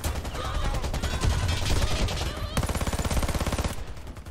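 Rapid automatic gunfire in the Xbox One shooter Warface, a dense, loud burst of overlapping shots followed by a steady rhythmic stream of rounds that cuts off near the end.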